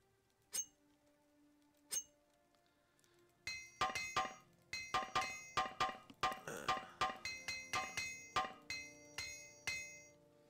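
Repair hammer strikes from the video game Morrowind: two isolated metallic clinks, then a quick run of a dozen or more bright ringing taps in an uneven rhythm, close and alone.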